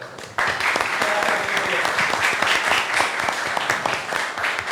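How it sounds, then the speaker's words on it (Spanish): An audience at a university law faculty event applauds to welcome the faculty director, loud dense clapping that starts abruptly and continues steadily, with a faint voice briefly audible underneath. "vamos a recibir con un fuerte aplauso al director de la Facultad de Ciencias Jurídicas y Sociales"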